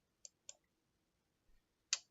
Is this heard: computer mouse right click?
yes